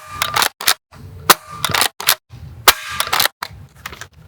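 An Adventure Force Villainator foam dart blaster is fired downrange in a series of loud, sharp snaps, about eight to ten shots in uneven rhythm with short silent gaps between them, close and with no voices.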